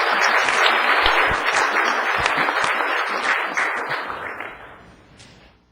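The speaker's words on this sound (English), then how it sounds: "Let's give him another round of applause" A city council meeting crowd applauds, steady clapping from many hands that holds strong for several seconds and then fades out, with no talking over it.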